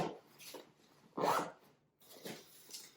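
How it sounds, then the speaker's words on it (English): Zipper being pulled closed on an Evergoods CHZ26 backpack, a few short rasping strokes with one louder, longer pull near the middle, close and fairly quiet. "but I'm going to zip this up."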